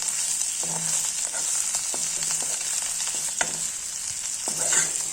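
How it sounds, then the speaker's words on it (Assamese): A soaked ingredient frying in a pan until lightly browned, giving a steady hissing sizzle with occasional soft spatula taps and scrapes, close and continuous. "সেইখিনি মই এনেদৰে ভাজি লৈছোঁ। অকণমান ৰঙচুৱা হোৱালৈকে ভাজিছোঁ।"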